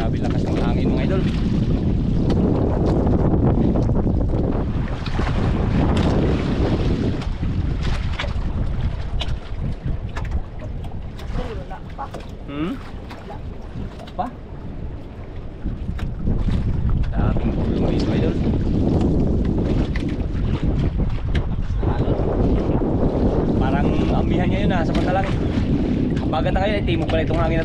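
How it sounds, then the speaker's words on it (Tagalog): Strong wind buffets a small boat at sea, roaring loudly against the microphone with rushing water, easing briefly in the middle before surging again, while people talk intermittently underneath. "Grabe lakas ng hangin, mga idol."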